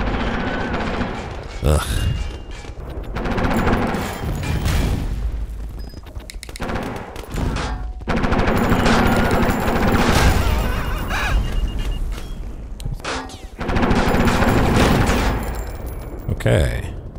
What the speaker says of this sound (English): because I got in the way of the gunfire, or caused them to fire in that direction.